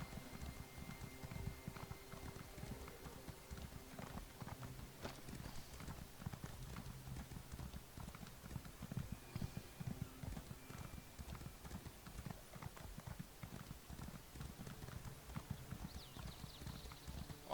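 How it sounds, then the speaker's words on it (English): A horse's hooves gallop in Skyrim, a steady, quick clip-clop rhythm running continuously at a modest level with no one talking. "I'm going to call my trusty steed"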